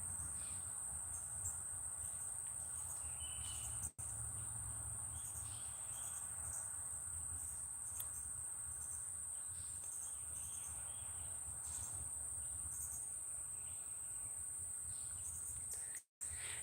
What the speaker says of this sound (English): We have a lot of insects here as well.